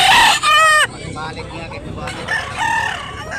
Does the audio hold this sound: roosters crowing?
yes